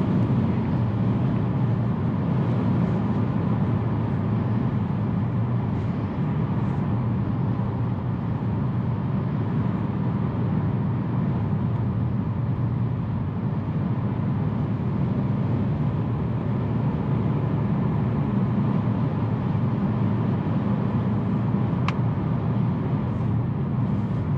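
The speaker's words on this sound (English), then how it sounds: "But you do hear the higher RPMs." A steady, loud engine drone from a 2020 Hyundai Venue at around 4,000 RPM holds at a high, even pitch throughout, a continuous mechanical roar with no talking.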